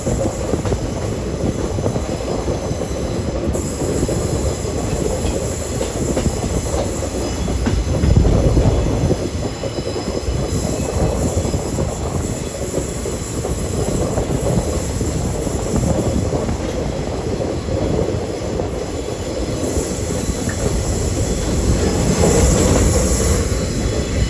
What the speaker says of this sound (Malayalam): ട്രെയിൻ ഇപ്പോൾ രാമനഗരം എന്ന് പറഞ്ഞിട്ടുള്ളൊരു സ്റ്റേഷനിൽ എത്തിയിരിക്കുകയാണ്